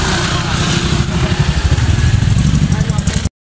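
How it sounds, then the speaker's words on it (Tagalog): Tricycle motorcycle engine running steadily while riding, a continuous close, loud rumble with rapid pulsing throughout, with talk faintly mixed in. "Nasakay na kami ng tricycle."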